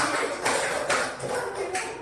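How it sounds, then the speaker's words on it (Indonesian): Audience applause for Pak Alvin at a school workshop for teachers on positive discipline culture: steady mid-level clapping from a seated group, swelling in several short waves over two seconds with little speech. "Tepuk tangan dulu untuk Pak Alvin."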